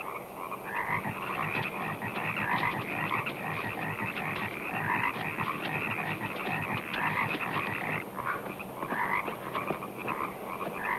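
A dense, continuous chorus of many frogs croaking at once near a pond and pontoon, steady and loud throughout with overlapping rhythmic calls and no speech.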